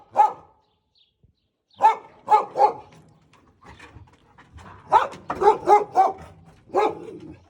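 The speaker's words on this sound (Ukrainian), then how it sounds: "Ти чого гавкаєш?" A dog barks outdoors in a garden, a few separate sharp barks followed by a quicker burst of repeated barks, loud and near, with no talk over them.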